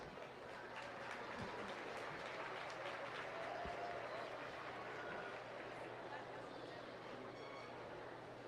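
Crowd applause fills a livestock show arena at a county fair, a steady wash of clapping for the winners that holds evenly throughout at a moderate distance.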